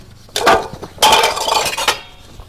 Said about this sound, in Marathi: काम करायला लावली मला हळू भांडी फुटतील